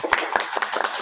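Brief applause for a guest speaker at a logistics talk: a short burst of several sharp hand claps, close and moderately loud, with no talking.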